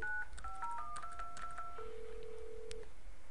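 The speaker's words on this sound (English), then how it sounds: "I'm going to dial a PSTN number just to verify this" A desk phone on a Cisco CUCM 8.5 system dials an outside PSTN number: a quick run of short DTMF tone pairs, then a longer steady tone, all clean and close with no talking.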